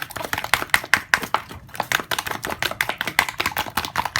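A fertilizer mixture is stirred together with egg, producing rapid, irregular tapping and clinking strokes that repeat steadily at close range with no talking.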